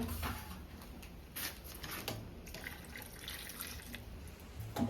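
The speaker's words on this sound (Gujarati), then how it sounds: "કારેલા ડૂબે એટલું પાણી નાખવાનું છે." Water poured into a pot of stuffed bitter gourds and potatoes until they are covered; a quiet, continuous splashing flow with faint drips, no voices.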